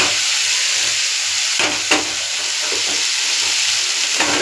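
Boiled tomato and potato sizzle and fry in a hot pan, a steady broadband hiss with a few louder crackles and stirring scrapes partway through; no talking.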